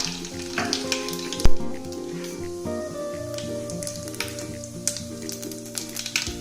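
Cumin seeds, with mustard seeds, crackling in hot oil for a soybean curry, a busy spattering sizzle of rapid pops with a steady hum under it and one loud knock, close and continuous.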